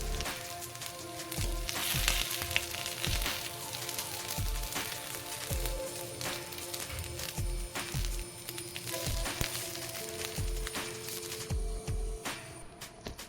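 Pathrode fries on a tawa with a constant low sizzle and crackle, punctuated by regular soft thumps and scrapes of a spatula, close and moderately quiet with no talk.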